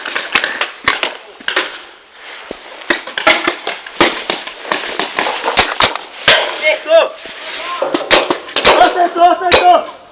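Rapid bursts of sharp popping paintball gun shots, many in quick succession and close, with excited voices talking and shouting over them.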